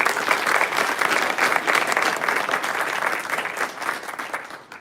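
Audience applause for children who performed Veda chanting at a Sai center program, sustained and even through most of the clip, then fading away.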